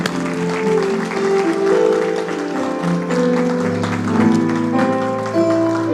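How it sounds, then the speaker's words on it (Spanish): A church congregation clapping hands together in rhythm, steady applause layered over music and filling the room. "¿Por qué no le damos palmas al Rey de Reyes?"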